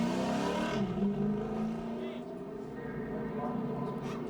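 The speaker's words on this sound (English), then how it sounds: "the 16 truck of Mike Skinner's coming down pit road" A NASCAR Truck Series race truck rolls down pit road at Homestead-Miami Speedway with a rough, steady engine drone and some revving, heard faintly beneath broadcast commentary.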